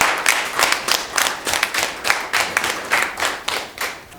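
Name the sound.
audience applauding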